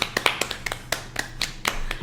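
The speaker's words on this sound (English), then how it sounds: "everybody give Chris a round of applause" A small group claps for a new table, sparse, uneven individual hand claps spaced across a couple of seconds, close and fairly quiet rather than a full crowd.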